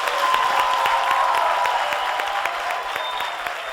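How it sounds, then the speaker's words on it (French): Steady audience applause fills a Burkinabè radio café broadcast with the Minister of Culture, moderately loud and sustained at an even level throughout. "on va vous applaudir encore très fort"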